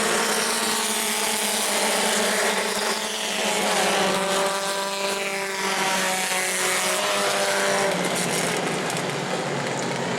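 Bomber-class race cars roar around the New Smyrna speedway in close-quarters racing, a continuous loud drone of several engines with rising and falling pitch, steady throughout with no voices.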